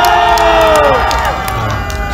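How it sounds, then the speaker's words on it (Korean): A crowd at an outdoor political rally in front of the Bank of Korea claps and cheers in welcome, a loud, dense burst of voices and applause with shouting mixed in that eases slightly toward the end. "자, 환영 박수 부탁드립니다."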